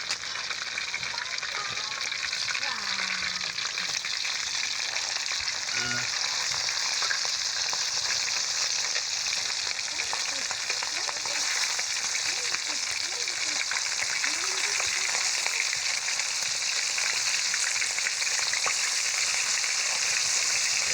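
Fish sizzles loudly in hot oil in a pan, a dense, continuous crackle that holds steady from start to finish, with a few soft stirring or handling sounds.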